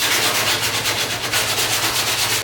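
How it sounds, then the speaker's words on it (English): Steady back-and-forth sanding strokes rasp across body filler on the rear quarter panel of an FRS, rhythmic and close, with no voices. "Now it's just time to sand it."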